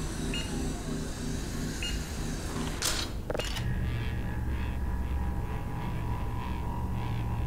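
A train moving through the Black Mesa game world makes a continuous low mechanical rumble and hum, broken by a couple of sharp clanking hits partway through before the steady drone resumes.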